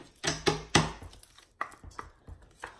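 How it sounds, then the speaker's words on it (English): Tarot cards being shuffled by hand during a reading, a close, uneven run of sharp riffling slaps and soft thumps, a few strong bursts early and lighter taps after, with no talking over them. "Trying to shuffle the cards here."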